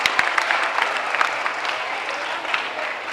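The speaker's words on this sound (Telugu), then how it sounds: "గట్టిగా చప్పట్లు కొట్టండి." A hall audience claps steadily for a few seconds at a children's day celebration marking Nehru's birthday, a dense even patter of many hands with no voices over it.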